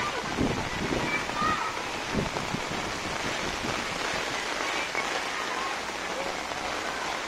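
Heavy rain pours steadily and loudly, a dense constant hiss drumming on surfaces throughout.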